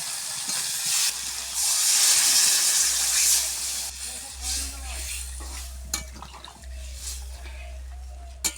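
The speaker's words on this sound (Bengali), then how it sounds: "কষা হয়ে গেছে, জল দিয়ে দিচ্ছি" Water poured into a pan of frying cumin and ground spice paste while cooking a rohu fish and potato curry, with a loud rushing sizzle that gradually settles into steady bubbling and occasional stirring scrapes.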